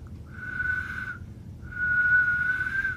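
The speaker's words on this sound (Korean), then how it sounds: "휘파람 한 대" A person whistles two sustained clear tones, a shorter one and then a longer one, close by over faint low background noise.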